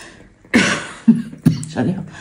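A few harsh coughs in quick succession, close and fairly loud, with short pauses between them and no speech.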